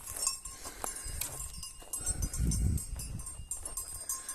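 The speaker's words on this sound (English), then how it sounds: "Goats!" Goats on a Portuguese farm bleat a few times at a moderate distance, short calls scattered among rustling and faint knocking, with a low murmur of activity nearby.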